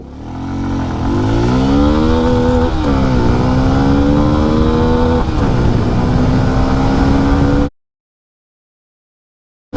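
A 125cc motorcycle engine roars loud and close, accelerating from zero to sixty and revving up through several gear changes with rising pitch, then cuts off abruptly to silence.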